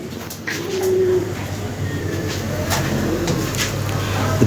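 Lahori pigeons give soft, low cooing calls, fairly faint and partly buried under background noise, with a rumbling hum running through.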